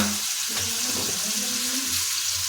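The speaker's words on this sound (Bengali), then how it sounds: "টমেটো কুচি যোগ করেছি এটাকে আমরা ভালোভাবে হাতে মিনিট দিয়ে দেবো মিনিট নাড়িয়ে নেব" Chopped tomato being stirred in a hot pan for a Bengali mixed-vegetable labra with lentil dumplings, giving a steady close sizzle with soft scraping movements, no voices.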